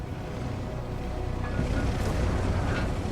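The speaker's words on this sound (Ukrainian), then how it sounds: "тепер артилерія буде лушпенить" Low rumbling blast of an artillery shell in World of Tanks, a deep roaring boom that swells and lingers over about three seconds, heavy in the low end with no talk.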